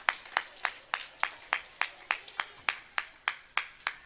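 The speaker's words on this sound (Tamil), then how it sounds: "நல்ல கைத்தட்டல கொடுப்போமா?" A small group claps at a church kids' programme, giving about fourteen sharp, evenly spaced claps in a steady rhythm. The claps are fairly faint but clear, with no talk over them.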